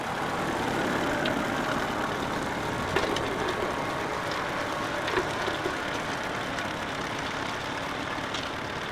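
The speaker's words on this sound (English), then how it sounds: "The Nuffield DM4 is an example of a British-built tractor seen in action." A vintage Nuffield DM4 tractor engine runs steadily at a distance at a steam fair, with a low, continuous chug and occasional faint knocks over the drone.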